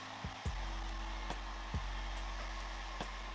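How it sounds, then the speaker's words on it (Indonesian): A hair dryer runs at a steady, loud whirring blow while drying hair, with a few soft knocks and bumps from handling over the continuous drone. "Jadi gue akan lanjut dulu keringin rambut gue"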